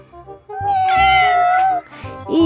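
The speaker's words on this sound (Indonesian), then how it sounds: "Iya, kamu jangan mengeong aja." A pet cat meowing in a children's cartoon, one long, loud, clear meow stretching over about a second, followed by a short rising call.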